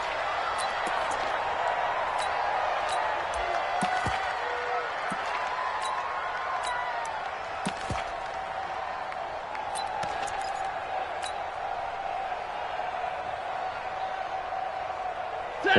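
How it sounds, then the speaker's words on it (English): Stadium crowd roar in a PS4 American football video game, a steady swelling murmur with scattered thuds, running beneath continuous play-by-play commentary. "the crowd getting into it as we come up on a big third down"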